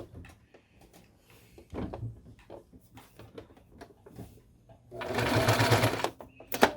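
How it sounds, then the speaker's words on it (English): A sewing machine stitches Christmas stocking fabric, with a loud, fast mechanical whir for about a second near the end. Soft handling clicks and fabric rustling come before it, along with faint background speech. "So now we are going to sew this together."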